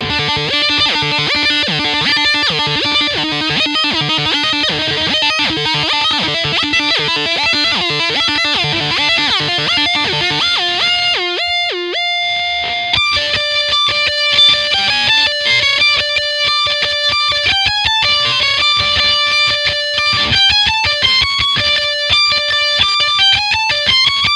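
Distorted electric guitar plays a riff while its pitch swoops up and down through a whammy pitch-shift pedal, with a brief gap midway, loud and close.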